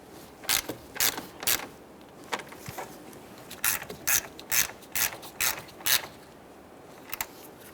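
A ratchet clicks in quick bursts while tightening the upper fan mounting bolts during a radiator replacement on a 2007-2017 Jeep Wrangler 3.6L V6, close-up and fairly quiet, with short runs of rapid pawl clicks separated by pauses.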